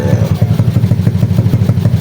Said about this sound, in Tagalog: ino-on ko na lang siya, tapos hinahayaan ko na lang siya, hindi siya namamatay yung makina